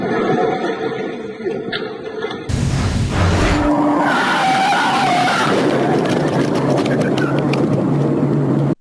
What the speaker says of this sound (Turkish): Kontrolden çıkan kamyon giderek yaklaştı, yol kenarındaki araca çarpıp hurdaya çevirdi.